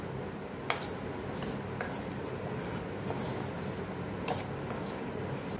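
A spoon clinks and scrapes in a bowl while amla pickle ingredients are mixed. The taps are faint, scattered and irregular, over a quiet room hiss.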